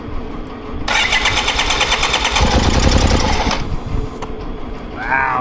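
A BMW K75RT motorcycle engine with a repaired injector cranks and catches, then runs in a brief loud, rattly burst that drops back before a short tail, heard close up with no talk.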